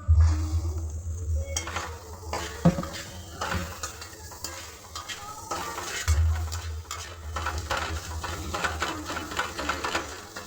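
Chopped tomatoes go into onions already lightly fried with spices for a chicken dopeyaja, followed by a soft sizzle and repeated scraping and clinking of a spoon stirring in the pan, close by and fairly quiet.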